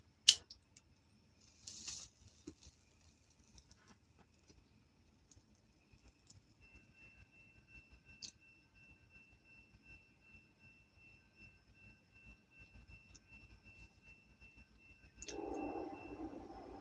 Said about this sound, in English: Train's coming.